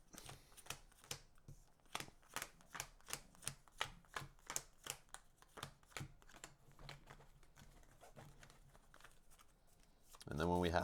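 Playing cards for the Marvel Legendary deckbuilding game being riffle-shuffled by hand, a quick series of crisp, papery flutters and snaps that come close and fairly loud in repeated bursts.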